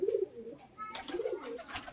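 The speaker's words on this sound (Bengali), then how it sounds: "বিভিন্ন রঙের কিন্তু এখানে দেশি কবুতর রয়েছে" Local deshi pigeons of various colours coo at a farm, a few low, rolling calls heard fairly quietly against soft background noise.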